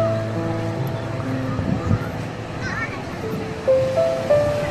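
Ocean waves roll onto a beach in Shenzhen in the evening, a steady close wash of surf with a couple of louder breaking swells, while voices murmur faintly in the background.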